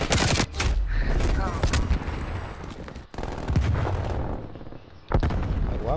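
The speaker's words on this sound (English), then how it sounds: "My sentry gun shooting them so far." A sentry gun fires in Call of Duty Black Ops Cold War, loud rapid bursts of gameplay gunfire with brief breaks between volleys, joined by other battle booms.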